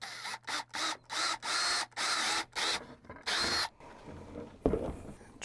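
Repeated short bursts of a power drill whirring close by as it drills an overflow hole in a plastic bucket, stopping and starting several times, followed by quieter handling noises and a soft thud.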